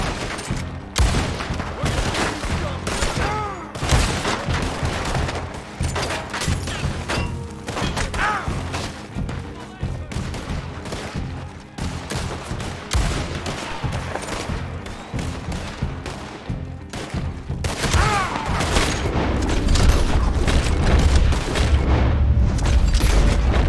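Gunfire in Red Dead Redemption 2: a dense, steady stream of shots and heavy thuds runs the whole stretch, growing louder and busier toward the end.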